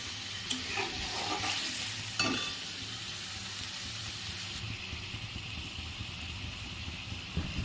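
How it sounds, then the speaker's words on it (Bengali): Hot water poured into a frying spice paste for a chital fish kalia sets off a steady broadband sizzle and bubbling, with a few sharper splashy bursts early on, close and fairly loud with no talking. "তাই আমি গরম জল দিয়ে দিলাম।"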